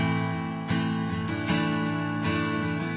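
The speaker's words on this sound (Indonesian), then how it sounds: "Pasti dong, itu suara gitar." Three or four plucked guitar notes, each ringing on and overlapping the next, sounding at a steady pace over a soft sustained background during a children's Sunday school worship service.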